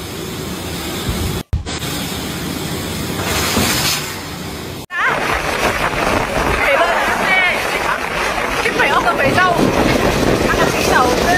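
Strong storm wind gusts outdoors, strong enough to rip apart a large metal framework and send it tumbling. A loud, steady broadband roar buffets the microphone, with brief dropouts and rougher, more turbulent gusting in the second half.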